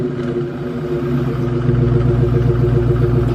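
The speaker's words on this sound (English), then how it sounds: "Let's get a real quick startup." A Dodge Charger Scat Pack with the 392 Hemi V8 fires up and settles into a deep, throbbing idle, the rumble swelling louder partway through and staying close and heavy.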